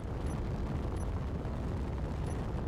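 Spaceship guns firing in the space game Space Engineers, a dense, continuous low rumble of heavy fire with faint high pings, steady and loud throughout with no talk.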